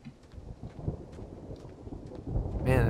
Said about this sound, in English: Man, that thunder sounds dangerous.